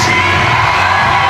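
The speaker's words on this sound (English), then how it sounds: "That's the cheer you're hearing right now for Katharina Posch" Crowd cheers and whoops for climber Katharina Posch at a European bouldering championship semi-final in Innsbruck, a steady loud roar of many voices filling the whole stretch.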